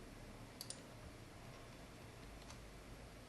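Mouse clicks in the Photoshop layers panel: a couple of quick, faint clicks close together early on and another single click later, over a steady low hum with no talking.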